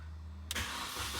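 A Mini's engine fires up at the push of a button, a sudden loud catch after quiet that settles straight into a steady idle.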